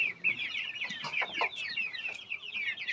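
Tiger breed chickens, 44 days old, clucking on a poultry farm: a steady, close chorus of overlapping clucks and chatter from many birds, with no voices.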